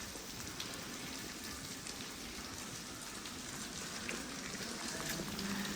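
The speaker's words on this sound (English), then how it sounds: "It's raining" Steady rain falls at Prague Castle, a dense, even hiss of drops on hard surfaces that holds at a constant level throughout, with no voices.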